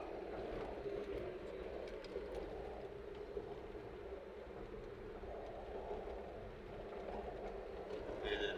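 A low, steady rumble of a metro train running past in Riyadh, faint and distant, continuous with no talking.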